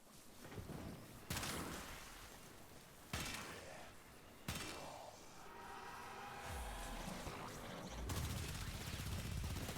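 Dual Toxocyst pistols fire in a video game in repeated rapid bursts, with sharp onsets several seconds apart and sustained dense fire between them, and a voice talks faintly over the shooting.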